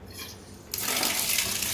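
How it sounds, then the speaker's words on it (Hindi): A household water tap opens suddenly, and a strong, steady rush of running water follows, close and loud, as clothes are rinsed beneath it. "आपने नल चलाया और आपने इस नल के नीचे थोड़ी देर"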